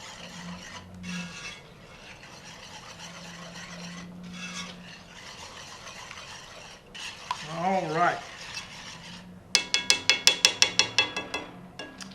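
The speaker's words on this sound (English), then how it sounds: "So vigorously whisk, incorporate that egg." An egg being whisked vigorously into sugar and butter in a bowl, soft rubbing strokes followed by a run of sharp rhythmic whisk clicks against the bowl near the end.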